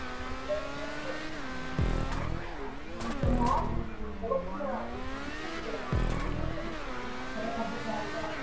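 Formula 1 car drifting in GTA V, its high engine whine rising and falling as the revs swing through slides, with a few abrupt thumps and faint tyre scrub, loud and close throughout.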